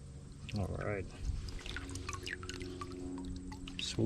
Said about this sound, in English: We're gonna grab this extra water here. And just really soak this in.